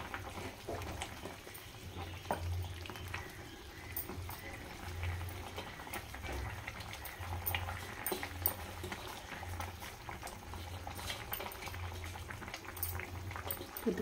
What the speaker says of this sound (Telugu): మూత పెట్టుకుందాం, ఒక 5 నిమిషాలు మరగనిద్దాం.